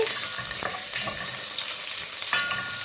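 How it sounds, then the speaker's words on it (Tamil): Green chilies and pandan leaves sauté in a hot pan for Sri Lankan chicken devilled, giving a steady, close sizzle with a few scraping stir strokes throughout. "பச்சை மிளகாயும் ரம்ப இலையும் போடுறேன் இதையும் நல்லா வதக்குவதோடையே"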